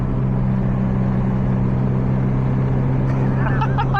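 A tuned 2006 Subaru WRX STI, boosting only on wastegate pressure, drives along with a steady engine drone and a low, humming rumble. Faint brief chirps come in near the end, and a voice is briefly present.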